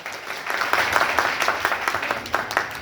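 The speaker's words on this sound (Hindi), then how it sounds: "जोरदार ताली सर के लिए" Applause from an audience at a company launching celebration, a dense patter of claps filling the room for a little under three seconds, with some irregular louder hand strikes standing out near the end.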